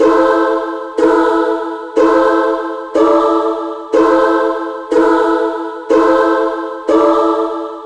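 Eight sustained synthetic choir chords, one per second, each swelling in and fading slightly before the next, forming a smooth progression with no voices speaking.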